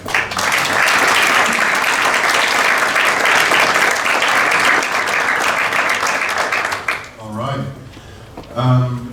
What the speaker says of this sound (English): Let's give them all a round of applause to make them feel so special.